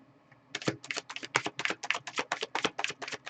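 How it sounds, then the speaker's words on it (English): A deck of tarot cards being shuffled, a quick burst of crisp riffling clicks and taps close up, running steadily for a few seconds with no talking. "I'm just going to shuffle it up."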